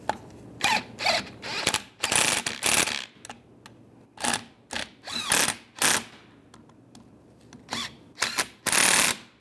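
A ratchet wrench tightening bolts on the wiper transmission of a 2007-2013 Chevy Silverado: repeated bursts of crisp, close clicking pawl strokes separated by short pauses.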